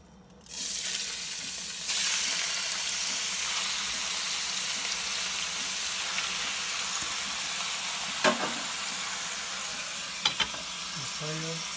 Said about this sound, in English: Okay, the oil is ready. I will add the squid.